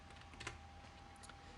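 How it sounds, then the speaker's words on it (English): A few soft keystrokes tap out on a computer keyboard, a brief faint cluster of clicks and then a couple more isolated taps over quiet room noise, with no talking. "I'll go ahead and type test."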